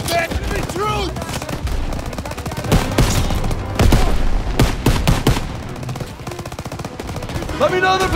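Sustained World War II battle gunfire from Call of Duty WWII, loud machine-gun bursts and rapid rifle shots overlapping throughout, with brief shouted voices mixed in.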